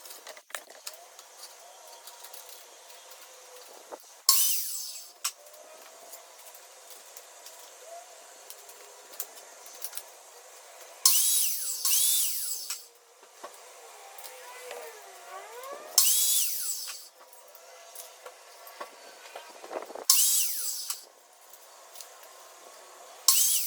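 A power saw cuts through a wooden 2x2 board in several short, loud bursts separated by quieter stretches of handling noise and faint tool whine.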